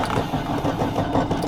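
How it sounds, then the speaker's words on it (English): An engine in a camper van cranking over and over without catching, a steady churning mechanical whir with rhythmic pulses throughout, close and fairly loud. "now the car won't start anymore"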